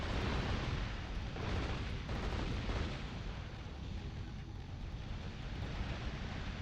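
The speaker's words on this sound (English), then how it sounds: "There's a lot of shooting, exploding." Shooting and explosions from the video game Metal Arms roar as a dense, continuous barrage of booms and blasts, loud and steady throughout with no talking.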